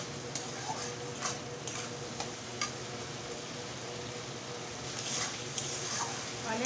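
Potato and pointed gourd curry with sweet curd being stir-fried in a pan, a steady close sizzle with scattered light taps and stirring scrapes throughout.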